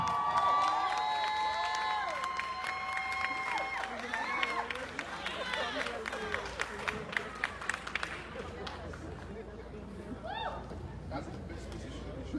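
An audience at a Haitian music awards show applauds and cheers after a performance, a dense burst of clapping and cheers that thins into scattered claps and chatter, with a presenter's voice talking over the crowd.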